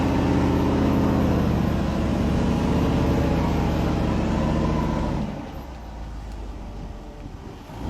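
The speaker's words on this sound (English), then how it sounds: "The Range Rover easily continued driving after the full stop." A Land Rover Range Rover on snow tyres drives off-road through snow, its engine droning loud and close, then dropping to a quieter rumble partway through.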